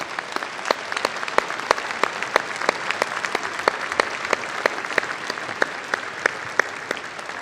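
At a 2007 freshman convocation, a hall full of students claps for their families. The applause is loud and sustained, with sharp individual claps standing out in a steady, even wash from start to finish.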